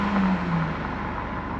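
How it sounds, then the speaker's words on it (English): A car engine revs somewhere outside a house, a sustained drone that drifts slightly downward in pitch and lasts under two seconds, moderately distant with no talk. "Who's revving their engine?"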